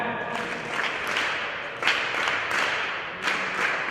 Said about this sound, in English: Can you just clap?